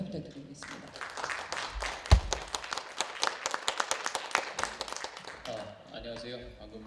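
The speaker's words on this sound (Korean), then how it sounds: "큰 박수로 발표 부탁드리겠습니다." An audience at an international academic conference claps for a Seoul National University professor, a sparse start building into a crisp, fairly close burst of applause that fades out, with speech before and after.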